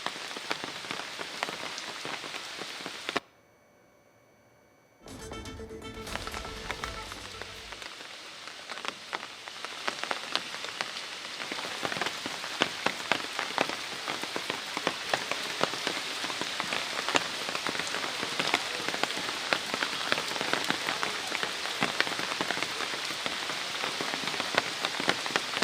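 Heavy rain beats steadily onto surfaces near the swollen, overflowing Malaprabha river at Khanapur in Belagavi, a dense, loud hiss with a brief drop near the start before the downpour resumes and holds throughout.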